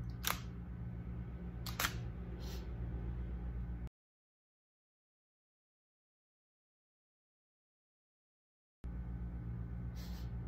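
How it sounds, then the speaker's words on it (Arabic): Shutter clicks of a single-lens reflex camera set for a long exposure while light painting, with two or three sharp clicks near the start and another at the end, separated by a stretch of silence. "بس انا راح اصور تعريض طويل شويه واسوي خط زي كذا"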